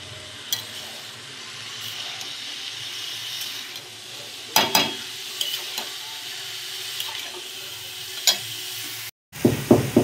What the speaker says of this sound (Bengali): কপিটাকে একটু এই সবজিগুলোর সাথে ভেজে নেব।